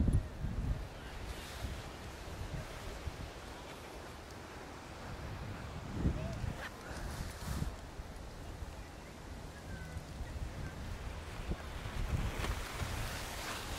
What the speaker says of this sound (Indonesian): ini kan agak susah kalau anginnya agak kencang